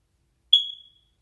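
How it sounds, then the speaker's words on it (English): A smoke detector gives a single short, piercing electronic chirp that fades quickly, alone in silence. "I think you just broke a perfectly good smoke detector."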